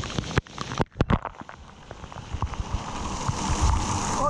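Water splashes and patters down a water park slide, starting with a few sharp splashes and bursts, then settling into a steady, close rushing spray.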